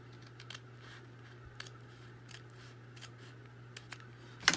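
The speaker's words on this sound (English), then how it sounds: "As I get out my scissors and try to fix it again." Scissors snip paper while working on a paper doll folio, a few faint sparse clicks over a quiet background hum, ending in a sharper close cut.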